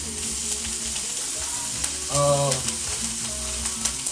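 Steady frying sizzle from a hot pan as Haitian paella crusts on the bottom, a continuous close crackle with a brief louder burst midway, no talk.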